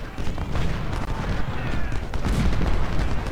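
Continuous volleys of Civil War musket and cannon fire at the Second Battle of Winchester in Ultimate General: Civil War, dense overlapping booms and crackles filling the whole stretch with no pauses.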